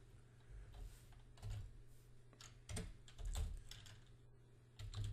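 Quiet computer keyboard typing in short irregular bursts of clicking keys, close and soft, with pauses between flurries and no talking.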